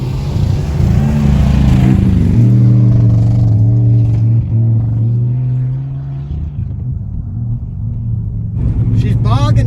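Car engine running on peanut oil, bogging down slightly: a loud, close, low rumbling idle with uneven revving and some clatter.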